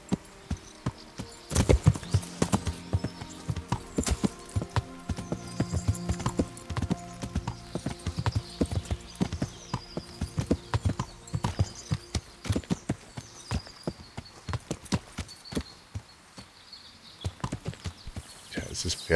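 Horse hooves clip-clop in the medieval role-playing video game Kingdom Come: Deliverance, a quick uneven run of sharp near hoof strikes lasting throughout, with someone talking over it at times.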